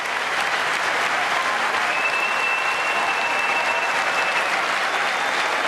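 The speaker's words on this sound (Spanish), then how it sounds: "Hasta ahora el aplauso más nutrido" A large audience at a State of the Union address breaks into sustained, dense applause that stays loud and even from start to finish.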